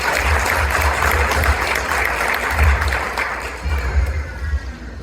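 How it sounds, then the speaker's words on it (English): A crowd at an Indian Overseas Congress victory celebration in Chicago applauds loudly to welcome a speaker, a dense, continuous wash of clapping heard up close that swells slightly and then tapers. "So please, with your round of applause,"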